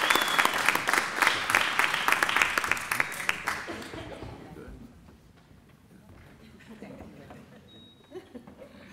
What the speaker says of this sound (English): let's give Mrs. Rossi a round of applause